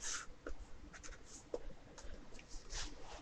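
Pencil sketching on paper, soft scratchy strokes coming in short uneven bursts, close and faint, with no voice.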